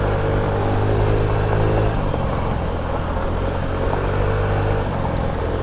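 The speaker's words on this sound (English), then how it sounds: "I can't believe I'm riding a moped on these trails," A small moped engine hums steadily and loudly throughout, with a slight drop in pitch partway through, riding along a rough dirt trail.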